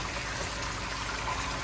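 Liquid poured off cooked ground beef for Hamburger Helper, a short, steady trickling and splashing stream heard close with no voices.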